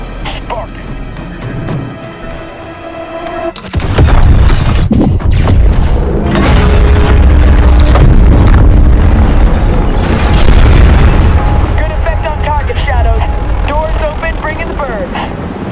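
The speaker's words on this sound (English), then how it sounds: "How about some fireworks? Wait till you hear this. Fuse is lit." Call of Duty Warzone gameplay as the stadium is blown up: a sudden loud blast and rumble, then sustained heavy booming, crackling and aircraft-like roar over game voice chatter and radio talk.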